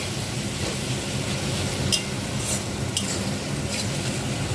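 Ginger and garlic paste fries with onions in a pan for a red mutton curry over low heat. A dense, even sizzle runs throughout, with a few faint scrapes of stirring.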